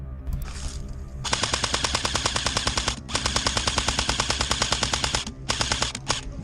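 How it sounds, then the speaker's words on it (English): Airsoft gun firing in long rapid full-auto bursts during an outdoor game, a dense, loud stream of clicks and pops broken by short pauses. "so I shoot and stun him"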